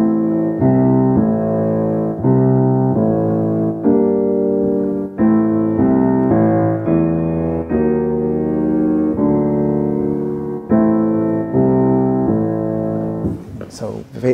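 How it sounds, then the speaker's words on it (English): A theme from a film score, a slow, sustained melody of rich, layered harmonic notes that changes pitch in steady steps and plays loudly throughout, with no talking. "Now that's a similar theme to the melody we have for the Emperor"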